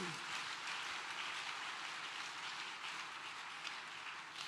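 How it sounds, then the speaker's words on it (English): A church congregation clapping in praise during a worship service in Accra, heard as a steady, dense wash of applause from many hands, fairly distant and even throughout, with no speech over it. "Give Jesus a big clap of praise."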